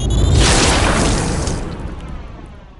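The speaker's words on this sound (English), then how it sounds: "I thought it was a flashbang grenade." A loud flashbang grenade blast in the Tales from the Borderlands video game: a sharp booming burst with a high ringing hiss that lingers and fades over a couple of seconds, with no talking.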